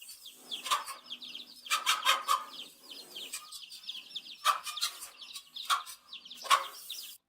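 A mother hen clucks in short repeated bursts, her sharp calls standing out against softer, higher chirps, all heard fairly close in a quiet outdoor setting.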